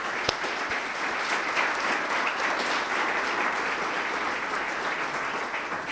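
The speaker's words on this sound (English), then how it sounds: "How about a round of applause for all of our healthcare workers?" Steady, dense applause from a large crowd, continuous and fairly loud throughout with no pauses.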